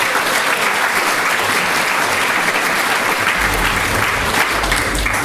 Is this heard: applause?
yes